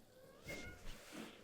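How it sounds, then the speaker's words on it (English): A house cat meows in the background of a remote interview, a couple of soft, fairly faint calls at moderate distance in a quiet room. "Is that your cat?"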